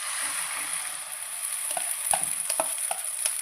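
Omelette batter sizzling in hot oil in a pan, a steady hiss with a few scraping stirs near the end.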